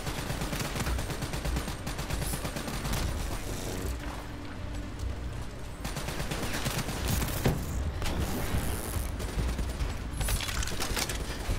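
Gunfire in Call of Duty: Black Ops III, rapid automatic bursts rattling almost continuously with booming impacts mixed in, a dense, loud battle din throughout and no talk.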